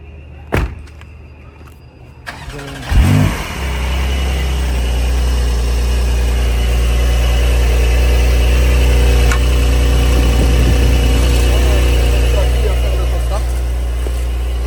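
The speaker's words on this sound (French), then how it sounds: "Le cold start est assez long, donc je vous démarre ça tout de suite." A Porsche 911 Carrera 2S engine cranks on a cold start and catches after a couple of clunks, then settles into a loud, steady low idle that drones on without a break.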